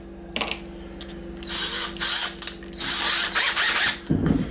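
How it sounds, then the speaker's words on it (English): Power drill whirring in several bursts while drilling holes in a hockey mask, with a ratcheting mechanical edge and short pauses between runs, close and fairly loud. "But you just start drilling."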